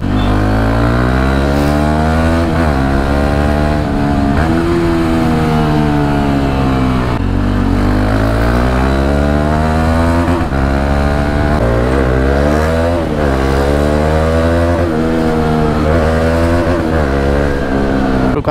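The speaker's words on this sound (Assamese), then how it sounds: "বহুত বেছি লাউড হৈ আছে বাইকখন" A Bajaj Dominar 400 motorcycle with a loud aftermarket exhaust revs repeatedly while riding, the engine note rising and falling in long sustained pulls, close and dominant throughout.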